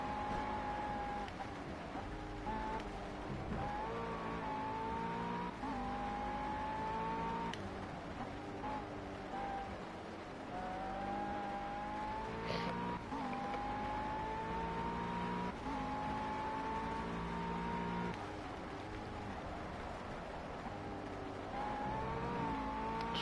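A race car driving on a wet track in the video game Project CARS: a continuous engine whine rising and falling through gear changes over a rumbling road bed, heard steadily throughout.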